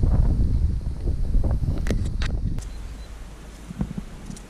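Outdoor wind in a countryside setting, a loud low rumbling buffet against the microphone that gusts and then eases, with a few faint rustles and knocks.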